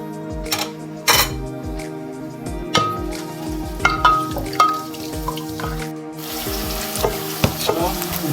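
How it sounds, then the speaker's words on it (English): Whole spices crackle and sizzle in hot oil in a cooking pot, with steady frying hiss, sharp pops and metallic clinks of a stirring spoon against the pan, close and fairly loud. "Oil is getting heated up, so we put our whole spices in it to fry them before onions."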